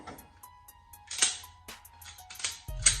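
A Taurus TH9C compact hammer-fired pistol with manual safety and decocker being cleared, giving a run of sharp metallic clicks and clacks of the slide and action, close and fairly loud against a quiet background.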